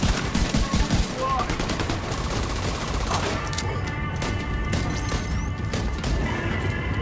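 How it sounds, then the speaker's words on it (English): Gunfire and a grenade blast in The Division 2 during a federal emergency bunker mission: dense, continuous loud shooting and crashing impacts throughout, with battle noise layered under it. "I threw a grenade."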